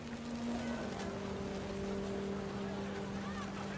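Steady rain pours down in the game What Remains of Edith Finch, a dense, even hiss that holds throughout at moderate loudness, with a low tonal hum running beneath it.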